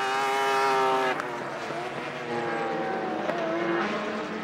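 Three-rotor rotary-engine race car at a Japan GT race, a loud high-pitched buzzing engine tone shifting pitch as it passes close, steady and continuous throughout.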